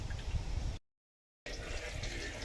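Kote Nadu groundnut oil pours into a pan with a soft liquid gurgle that cuts out briefly and then resumes.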